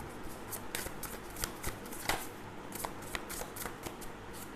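Tarot cards are shuffled by hand in quick, close riffles and slides, with crisp papery flicks repeating irregularly throughout. Nobody speaks.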